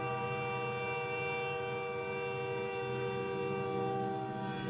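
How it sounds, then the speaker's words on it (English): A distant train horn sounds low and long, a steady held chord with rolling rail rumble underneath, faint and sustained across the whole stretch. "a train horn sounded, low and long, rolling across the hollow like a warning."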